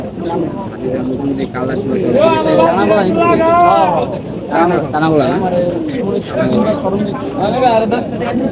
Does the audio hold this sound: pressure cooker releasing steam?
no